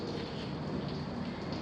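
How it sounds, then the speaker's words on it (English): Steady rain falls outside a new condo in Dallas, a dense, even hiss of drops with no breaks or voices. "Got more rain? Okay, rain's good."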